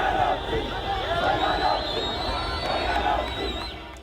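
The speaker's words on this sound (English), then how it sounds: "stopped traffic to cheer in the streets and on top of cars" Football fans in the streets of Addis Ababa, Ethiopia, stop traffic to cheer in the streets and on top of cars, a steady crowd roar and babble of many voices with high whistle-like tones running through it.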